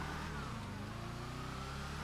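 Engine of a demon muscle car in a video game, a steady mid-pitched drone with a low rumbling tone that rises and falls slightly, loud and continuous with no talking.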